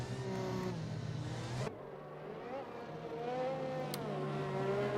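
A Mercedes safety car engine in the game F1 2021 drones steadily, dipping on a gear change partway and then rising again in pitch, continuous and fairly close.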